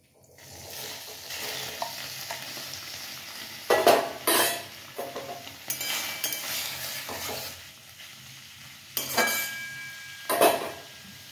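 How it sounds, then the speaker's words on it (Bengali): Paneer pieces sizzle in a hot pan alongside cut tomato and capsicum, a steady frying hiss broken by several sharp clinks and scrapes of a utensil against the pan. "চলো এবার একে একে পনিরগুলো ছেড়ে দিই।"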